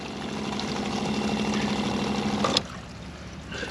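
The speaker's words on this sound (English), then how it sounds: "So the pump's drawing up water from the fresh water tank." A camper van water pump draws water from the fresh water tank with a steady humming drone and trickling water. It cuts off abruptly partway through, and quieter background noise and a faint clatter follow.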